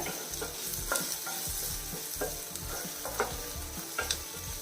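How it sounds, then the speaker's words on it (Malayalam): Tomatoes sautéing in a pan over a medium flame, a steady close sizzle broken by regular scraping strokes of a spoon stirring about once every half second, with no voices. "മീഡിയം ഫ്ലെയിമിൽ വെച്ചിട്ട് വഴറ്റിയെടുത്താൽ മതി നമ്മൾ തക്കാളി നല്ല രീതിയിൽ വഴണ്ടിട്ടുണ്ട്"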